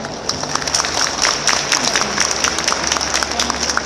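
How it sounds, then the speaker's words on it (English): A conference audience applauds a speaker at an urban regeneration event, a steady crisp clapping across the room with a low hum beneath it. "Can we invite you to give him a round of applause?"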